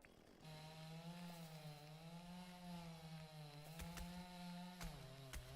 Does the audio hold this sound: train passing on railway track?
no